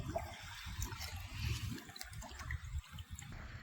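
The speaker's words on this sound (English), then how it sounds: "there's going to be a bunch of bubbles that rise from the vacuum head. This is just the air being pushed out." Air bubbles rising from a pool vacuum head underwater as air is pushed out of the lines, a steady bubbling, gurgling wash of water with low churning pulses, close and continuous with no talk.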